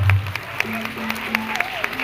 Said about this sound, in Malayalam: നാടൻപാട്ട് ഇഷ്ടമുള്ളവരൊന്ന് കൈയടിച്ചു.